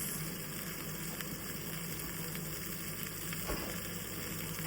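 Blade steak browning in a hot pan, giving a steady, even sizzle that continues throughout, close and fairly quiet, with no talk.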